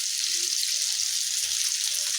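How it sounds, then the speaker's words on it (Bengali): Fresh bata fish crackle and hiss in hot oil in a pan, a continuous bright sizzle heard up close with a few soft low knocks underneath. "এই যে অলরেডি মাছ ভাজা কিন্তু শেষ পর্যায়ে আছে"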